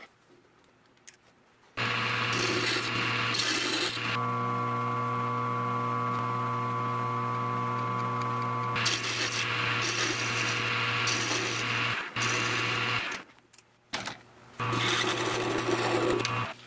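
A lathe or similar machine tool works a piece of scrap brass into a bushing, giving a loud steady mechanical whine with a constant hum. The whine runs in long stretches that break off abruptly and start again, close by.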